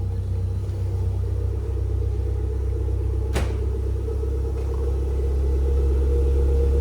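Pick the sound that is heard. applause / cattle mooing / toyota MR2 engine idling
toyota MR2 engine idling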